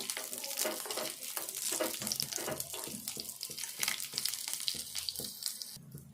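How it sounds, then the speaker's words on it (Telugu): Green chillies, three of them halved into six pieces, frying in a pan for a peanut tamarind curry, giving a steady close sizzle and crackle with occasional stirring scrapes and no talk. "మిర్చి ఇట్లా దోరగా వేపుకోవాలి. మంచిగా ఈ కలర్ వచ్చేదాకా వేపుకోవాలి."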